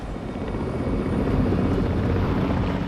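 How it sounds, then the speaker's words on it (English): Wessex military helicopter rotors drone in a steady, rumbling throb, loud and continuous, with no talking. "Three helicopters head for the Glacier."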